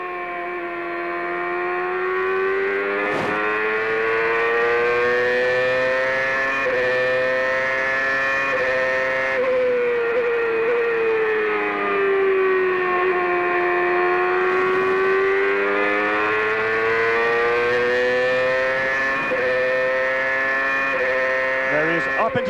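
Onboard a 2002 CART race car driven by Paul Tracy at the Chicago Grand Prix, the engine howls loudly and continuously, its pitch climbing and dipping through gear changes, with a commentator's voice faintly underneath.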